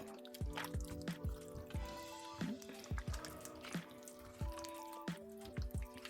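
Yogurt-marinated chicken for baked tandoori-style chicken, squished and mixed by gloved hand in a bowl with a little leftover wash water, giving close, wet squelching and dripping sounds in an irregular rhythm.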